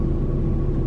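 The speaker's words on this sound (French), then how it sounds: "Ah mais c'est parce qu'il y a la clim." A car's air conditioning runs inside the cabin in a parked car, a steady, even whooshing rumble that holds at one level throughout with no voices.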